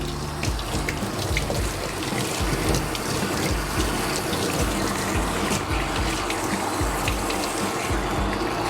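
Steady running water pours and splashes continuously as a shower sprays a Bichon Frise being rinsed, with no voices.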